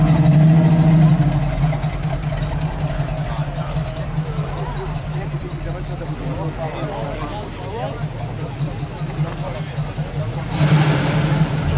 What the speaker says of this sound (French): Chevrolet Camaro, 1968. Camaro SC.